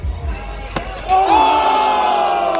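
Crowd at the SLS Super Crown skateboarding final swells into loud cheering and applause after a brief lull, sustained and roaring near the stands with scattered shouts.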